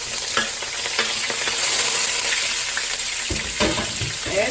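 Chopped shallot lands in a hot pan and sizzles loudly and continuously, with the frying hiss swelling slightly as it is stirred and a few clinks of the utensil near the end.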